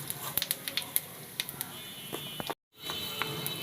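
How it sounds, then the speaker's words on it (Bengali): Cumin seeds dropped into hot oil for tempering, with soft crackling and sizzling pops scattered over quiet background, a brief silent gap near the end. "এবার জিরে তেলের পরে দিয়ে দিলাম ফোড়ন।"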